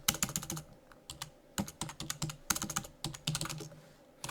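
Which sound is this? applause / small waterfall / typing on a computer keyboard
typing on a computer keyboard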